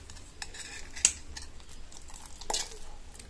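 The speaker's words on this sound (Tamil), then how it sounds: "இப்போ இதை கைவிடாம நல்லா கிளறிட்டே வருவோம்" Amla halwa paste is stirred in a pan over a low flame, with soft scraping strokes, occasional sharp spoon clinks against the pan and faint bubbling, close and fairly quiet.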